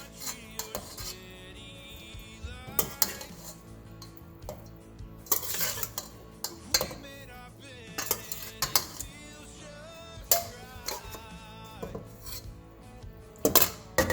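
Goat meat and brain for isi ewu are crushed and mixed in a bowl, giving irregular clinks and scrapes of utensil against dish, bursts of clattering spaced through otherwise quiet stretches, close and alone.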